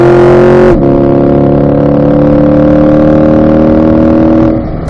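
A C8 Corvette accelerates hard out of a corner on a racetrack, its engine note loud and close, holding a steady rising drone with a brief gear-change dip near the start and easing off at the end.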